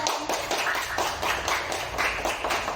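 Classroom applause for a student as a group of children claps together in a steady, rhythmic pattern of repeated bursts, close and fairly loud for about three seconds.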